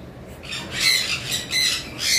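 Cockatiels, an albino pair kept as a breeding pair, squawk in a steady run of loud, close, harsh calls that rise and fall over a couple of seconds, with no talk.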